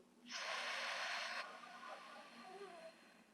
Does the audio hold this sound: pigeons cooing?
no